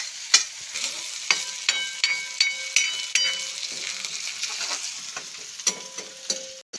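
A garlic, chilli and green onion tempering sizzles hard in hot oil for an eggplant dish, a steady crackling hiss broken by sharp pops and stirring clatters, close and alone.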